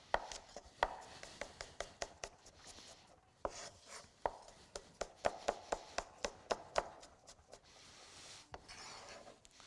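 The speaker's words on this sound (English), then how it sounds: "slicing these really thin here." Fruit being sliced thinly with a knife on a cutting board for sangria, giving quick, close, crisp chopping taps in irregular bursts, with short pauses between runs.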